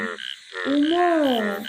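A frog croaks in one loud, sustained, tonal call after a brief opening note, heard on its own.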